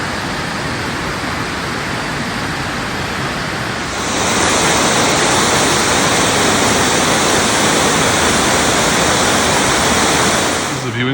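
Mesac Falls in Scotland roars as a steady, loud rush of falling water seen from a high viewing platform, the noise swelling noticeably partway through.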